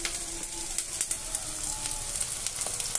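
Potatoes frying in a pan with cashews, raisins and ginger-garlic paste give a steady close sizzle with small crackling pops throughout, alone without talk.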